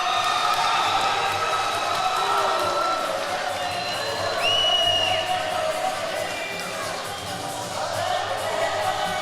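A boxing crowd on its feet at an elite amateur championship final, cheering and whooping in a dense, continuous roar that fills the hall, with shouts rising over the din.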